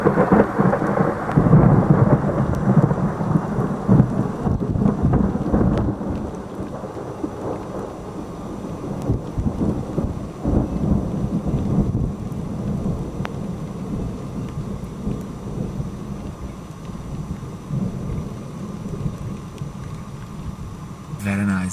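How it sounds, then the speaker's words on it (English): Rain patters steadily on a camera during an overnight thunderstorm in Argentina. Heavy rumbles of thunder come early, then drops keep pelting at close range under a dull stormy roar. "Hope it's not raining too much on the camera."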